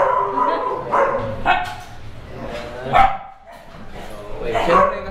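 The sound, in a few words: large dog barking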